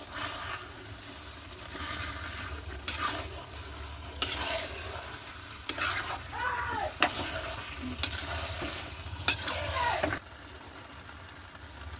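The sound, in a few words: stir-frying masala for chicken biryani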